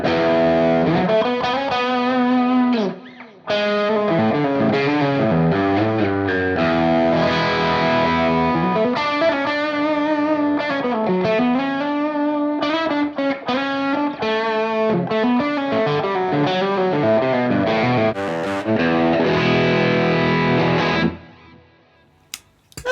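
Electric guitar driven through a UAFX Lion '68 Super Lead amp with boost and delay engaged gives a loud, saturated sound of ringing chords and melodic lines with trailing repeats, ending in a short decay, with no talking.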